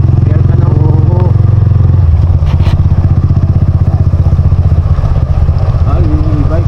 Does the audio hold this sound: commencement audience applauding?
no